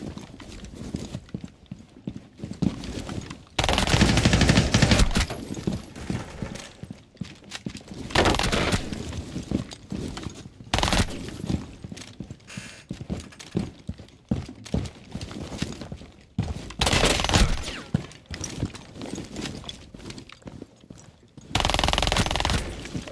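Rapid bursts of rifle gunfire with recoil in the video game Rainbow Six Siege, loud clustered volleys repeating through aim training with short pauses between them and no talk over them.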